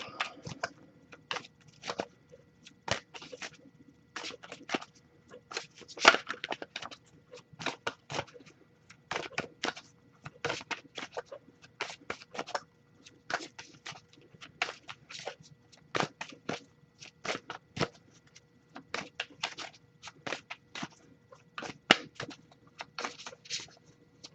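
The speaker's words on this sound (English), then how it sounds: "I'll give it a few more shuffles though" Tarot cards being shuffled by hand in a quiet room, a long run of soft, crisp riffling bursts repeating in quick irregular rhythm, close and fairly faint.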